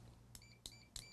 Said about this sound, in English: I'm gonna go to beep mode.